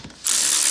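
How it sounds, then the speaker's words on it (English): A 10mm ratchet spanner clicks rapidly and loudly up close while working on a 2002 Range Rover L322, a steady burst of ratcheting after a brief quiet start. "with a 10mm ratchet spanner on there."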